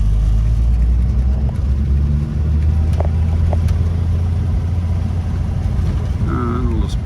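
A 1949 Willys Jeepster with a six-cylinder engine pulls away in first gear as the clutch slips out, a loud, steady low engine drone close by, with faint clicks and a brief rising whine near the end.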